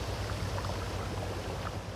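A vehicle engine in the game Crossout gives a steady, low, droning rumble with a hissing, wind-like wash over it. It plays continuously and alone, with no talk.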